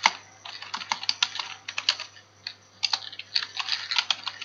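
Text is typed on a computer keyboard into a LibreOffice Impress slide title, a quick uneven run of close, crisp key clicks in short bursts with brief gaps, over a faint steady hum and no talking.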